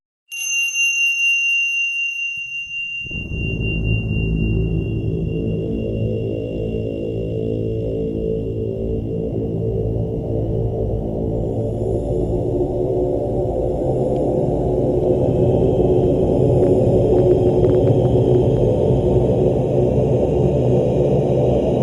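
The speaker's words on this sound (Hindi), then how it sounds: "यह है कायनात की आवाज।" A sonified sound of the early universe: a low, droning hum with layered rumbling tones that swells in after a few seconds of near silence, then holds steadily, with a faint high whine above.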